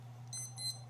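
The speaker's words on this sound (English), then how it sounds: "Sorry, that alarm must mean it's getting late." An alarm clock beeps faintly, a couple of short high-pitched pulses in quick succession over a low steady hum.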